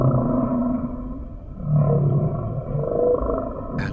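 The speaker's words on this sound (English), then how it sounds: "The whales in different oceans have different songs." Whale song in the deep ocean: long, low, moaning tonal calls that rise and fall in pitch, sustained and fairly loud, with no other sounds around them.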